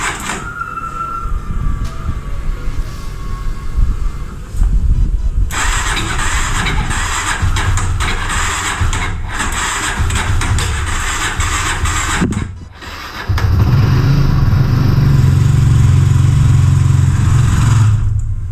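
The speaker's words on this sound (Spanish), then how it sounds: "A ver, dale un arranque," A Benelli TNT25 250cc motorcycle engine with a strange noise is cranked by its starter, whirring and sputtering over several seconds before a deeper, louder running rumble takes hold near the end, close by.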